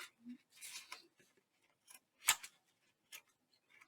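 Scissors snip off the corner of a piece of lacing craft material: one sharp cut stands out among a few quieter handling sounds, close by and fairly faint, with no talk.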